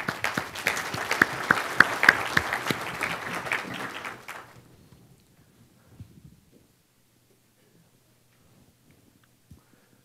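A keynote audience applauds for the engineers at a technology forecast event, a dense burst of clapping that lasts about four seconds and then dies away, leaving a few faint scattered sounds.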